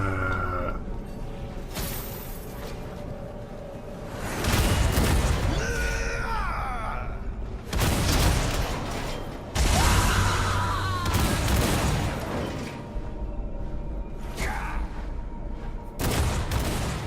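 Bombard spell explosions in War for the Overworld, a run of loud booming blasts every couple of seconds over constant battle noise and game announcements.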